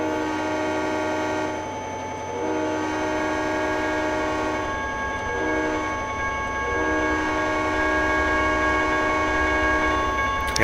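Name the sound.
train horn in the Trainz 2010 video game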